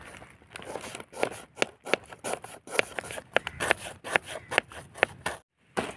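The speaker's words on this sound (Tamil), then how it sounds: "வெங்காயத்தை கட் பண்ணி எடுத்துக்க போகிறோம்." Onion sliced with a knife in a home kitchen while cooking bitter gourd with egg: a rapid series of close, crisp crunching cuts, fairly even in rhythm, stopping near the end.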